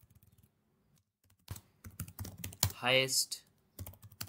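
Soft computer keyboard typing in short clusters of keystrokes as a question is entered, fairly quiet, interleaved with a person speaking.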